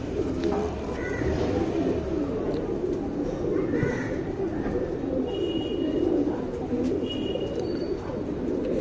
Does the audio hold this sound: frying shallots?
no